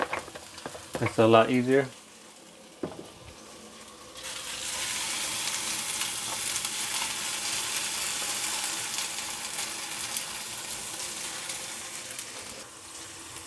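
Potatoes land in a hot pan and settle into a steady, loud frying sizzle that runs on for several seconds after a brief spoken remark and a clatter.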